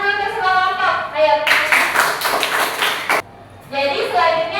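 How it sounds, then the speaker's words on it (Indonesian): A classroom applauding together, a dense burst of clapping hands lasting about two seconds, set between stretches of someone speaking. "Tapi beri tepuk tangan dulu ke semua kelompok."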